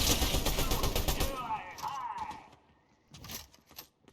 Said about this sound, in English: Goodness gracious, that was a lot of shooting.